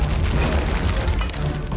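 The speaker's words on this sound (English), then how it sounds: "Did you hear that little extra splat? That's actually a nice detail they put in this game, where the enemies can be turned into gibs." A grenade blast in the shooter game Return to Castle Wolfenstein, a short loud boom with crunching debris and a wet gory splat as enemies burst apart, heard alone.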